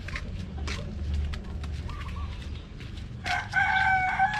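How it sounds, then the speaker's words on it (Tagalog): A rooster crows from a moderate distance over a low background rumble, with a few shorter fowl calls scattered before it. "isang lalaking manok yan na kasabayan nito"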